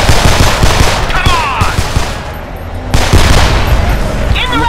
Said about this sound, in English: I'm providing covering fire because I don't like this gun